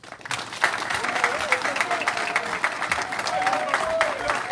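A modest gathering at a cemetery inauguration in Kinshasa claps in a brisk, steady patter, with individual hand claps audible. The applause continues for several seconds with voices murmuring underneath.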